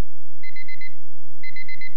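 Electronic phone alarm beeping in two quick bursts of four high tones, bright and close, with a short pause between the bursts.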